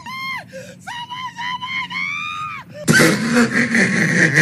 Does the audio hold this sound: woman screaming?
yes